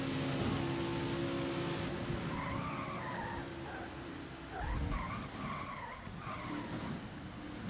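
Tires skid and squeal over a steady engine roar as cars collide in the NASCAR Heat 5 racing video game, with a continuous loud sweep and a brief burst of impact noise midway.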